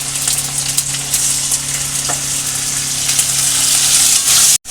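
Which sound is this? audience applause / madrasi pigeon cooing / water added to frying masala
water added to frying masala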